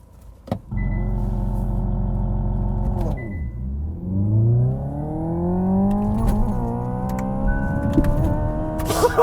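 A 2024 Hyundai Ioniq 5 N electric car launching from launch control: a loud synthetic engine-like drone holds steady, dips, then climbs in a long rising sweep through simulated gear shifts, close inside the cabin.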